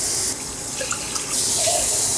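Tap water runs into a cooking pot before ramen is boiled, a steady hiss of pouring water that shifts in tone as the pot fills, close and continuous over a short stretch.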